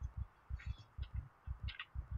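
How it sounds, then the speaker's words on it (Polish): In the video game Project Zomboid, a heartbeat thumps as steady paired low beats, about four double-thuds in quick succession, with faint game noises above it. "Oczywiście znowu jest to wielkie bicie serca."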